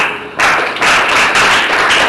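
A group of people applauds the presenters after a discussion on conflict resolution, a loud dense burst of clapping that starts abruptly and keeps going close by at steady strength.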